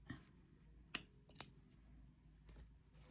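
Scissors snipping crochet yarn to finish a flower bookmark, two quick, faint clicks close up against a quiet room, no talking.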